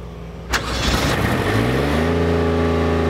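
A Trailblazer 325 diesel welder generator engine starts with a sharp click and settles into a steady, loud close-up idle rumble whose pitch climbs then levels off.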